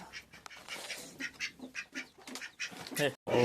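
Ducks quack near freshly hatched ducklings in a short series of calls close by, with a person talking intermittently over them.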